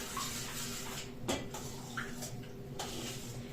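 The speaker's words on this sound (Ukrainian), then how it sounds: "Тепер перемішую." Dough being stirred by hand in a bowl for cabbage pirozhki, with soft scraping and a few brief clinks of a utensil against the bowl, steady and close, no talking.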